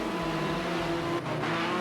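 A BMW race car in black and gold livery drives down the straight at Fuji in Project Cars 2, its engine a steady sustained drone with a brief dip, close and continuous.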